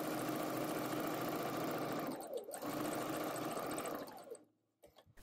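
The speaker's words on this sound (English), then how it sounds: "Then you can sew up your center back seam, the large, long, curved seam." Close sewing machine stitching along a long, curved center back seam: a continuous buzzing run that briefly slows midway, picks back up, then halts, followed by a few faint clicks.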